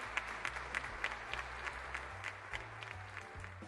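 Audience applause at a fintech industry evening event in Korea, steady clapping from a hall crowd welcoming a speaker to the stage, with low music humming underneath throughout.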